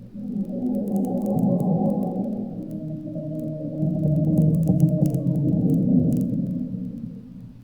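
A very deep bass track from a G-Major Trell mix plays alone, a sustained low, booming rumble that swells and eases over several seconds.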